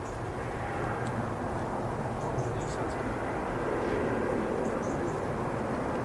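A steady, moderately distant roar of an Airbus A319neo airliner taking off at Manchester Airport fills the whole stretch, with people talking over it.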